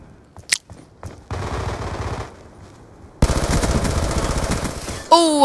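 Rapid automatic gunfire from Call of Duty Black Ops 2, bursts of machine-gun fire in two long sustained runs separated by short pauses, loud and close, with a brief sharp electronic sound at the end.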